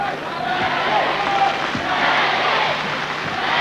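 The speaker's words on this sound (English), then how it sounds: "Now the crowd's starting to find some voice." A basketball crowd at a 1995 NBL game between the South East Melbourne Magic and Perth Wildcats cheers and roars continuously in a large arena, with a whistle and sneaker squeaks cutting through the din.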